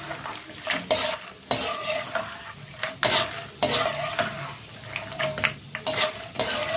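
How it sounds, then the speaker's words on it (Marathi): Peanuts fry and are stirred in hot oil for a crisp potato-shred fasting chivda, a steady sizzle broken by repeated scraping and clinks of a spatula against the pan, close and fairly loud with no talking. "शेंगदाणे ह्याच्यात थोडेसे परतून घेऊया तळून घेऊया"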